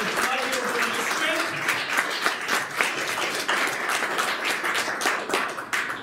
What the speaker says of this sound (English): I want to give a great big round of applause to Arjuna